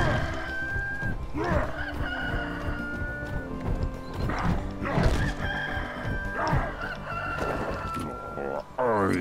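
Repeated rooster crows from moles in Lego Marvel Super Heroes ring out one after another, cartoonish and tonal, over a busy layer of game sounds and clucking.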